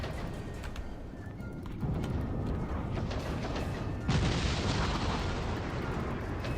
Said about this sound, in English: Looks like we are taking some fire.